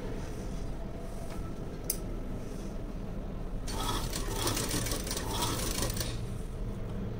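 A sewing machine stitches lining fabric onto a main fabric, giving a close mechanical whirring and clatter that rises into a denser, louder run in the second half of the clip.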